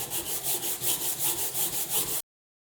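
Close, even back-and-forth strokes of 120 grit sandpaper rub a wooden router handle by hand, about a dozen rhythmic scratchy passes before stopping abruptly.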